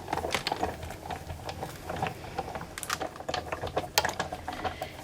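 A Big Shot die-cutting and embossing machine being cranked with a card sandwiched between clear acrylic plates, giving a steady run of close ratcheting, clicking mechanical sounds with no talk.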